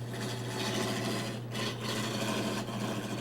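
Wood spinning on a lathe in a home workshop while stair parts such as posts are turned, giving a steady, continuous rasping scrape with a low hum underneath and brief dips in the cut.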